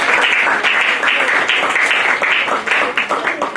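A church congregation applauds, a dense, loud wash of clapping that stays steady throughout, with some voices faintly mixed in.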